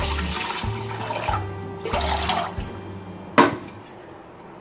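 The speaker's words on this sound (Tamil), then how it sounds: "அரிசி கழுவுன தண்ணியை இது மாதிரி மண் சட்டி ஃபுல்லா வர்ற மாதிரி சேர்த்துக்கலாம்." Rice-washing water is poured into a clay pot in a few splashy, gurgling pulses, close up, ending with a sharp clink.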